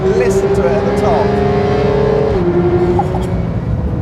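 A Porsche 911 GT3 with a PDK gearbox revs hard toward 9,000 rpm, its loud, climbing howl broken by a quick upshift before it pulls on again, with someone talking over the engine.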